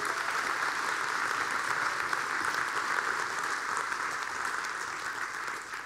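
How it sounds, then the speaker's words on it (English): A church congregation claps in sustained applause, an even, continuous patter heard at moderate level from a distance, with no speech over it for nearly six seconds. "Let's cheer for them one more time."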